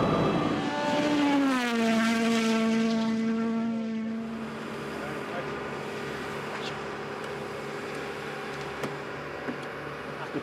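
Steady, loud engine drone from an airplane in flight to Eldoret, Kenya, with a whining tone that slides downward early on and then holds, continuous and with no talking.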